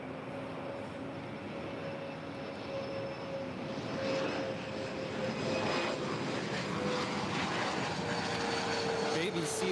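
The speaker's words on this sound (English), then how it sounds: "It's a CRJ 200 LR from Reading." A CRJ 200 LR regional jet at LAX produces a steady, broad engine roar with faint whining tones that grows slightly louder over several seconds, with faint voices in the background.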